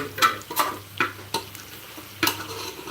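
Food frying in a pan as it is stirred, with sharp metal scrapes and knocks of the spoon coming every half second or so over a low sizzle, close by and without speech.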